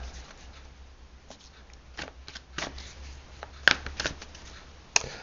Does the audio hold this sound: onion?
no